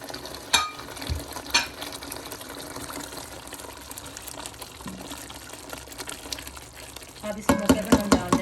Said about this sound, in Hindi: भंडिया में चम्मच लगा लेते हैं